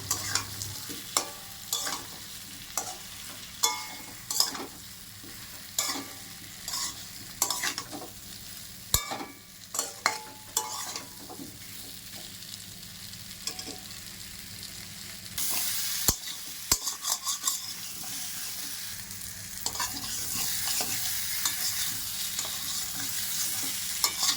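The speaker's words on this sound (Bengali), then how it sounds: "ওলগুলো মশলার সাথে একটু ভেজে নিয়েছি" Pieces of elephant foot yam being stir-fried in cooked-down spice paste, a low sizzle under frequent clattering spoon stirs and scrapes against the pan, growing into a steadier, louder fry toward the end; no voices.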